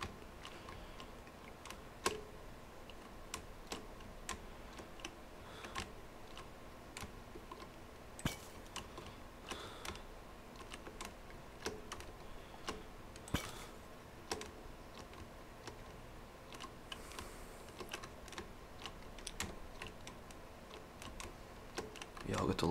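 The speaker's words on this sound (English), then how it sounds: "Y'all get to listen to some keyboard ASMR." Computer keyboard typing during a Terraria Master Mode session, a steady run of light clicks and taps with occasional louder key hits, close and fairly quiet, with game sounds faintly behind.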